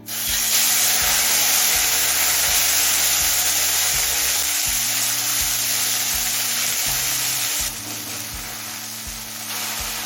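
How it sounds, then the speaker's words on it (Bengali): Kachki fish fry in smoking-hot mustard oil over a high flame with a loud, continuous sizzle and hiss up close, easing off a little toward the end, with no talk. "তেলটা হাই ফ্লেমে একদম ধোয়া ওঠা গরম করে নিলাম এবার মাছগুলো ভেজে নেবো"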